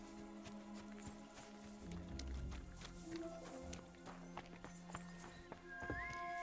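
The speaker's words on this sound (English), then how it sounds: "A lot of good horses here, that's for sure." Horses in the medieval video game Kingdom Come: Deliverance II clip-clop along with steady hoofbeats, and a whinny rises near the end over soft ambient game sound.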